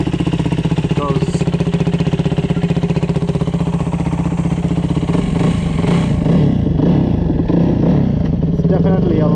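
A Yamaha WR250F dirt bike rides through snow, its engine putting out a steady loud buzzing drone that rises and revs toward the end, with talking over it.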